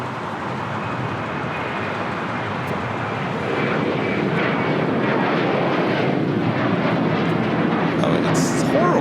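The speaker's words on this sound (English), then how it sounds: "Next takeoff, heading to Baltimore. United Airlines Flight 741," United Airlines Boeing 737-800 taking off at LAX, its jet engine roar steady and broadband, swelling slightly louder midway as the aircraft powers along, with talking over it.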